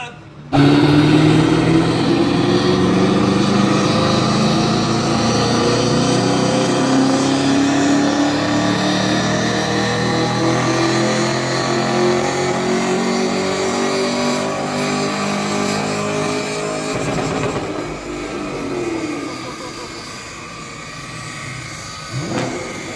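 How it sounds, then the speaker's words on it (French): A loud Chevrolet Camaro engine roars and revs nearby, pitch sweeping up and down over a steady rumble, with voices talking underneath. "que penses-tu du bruit de la Camaro"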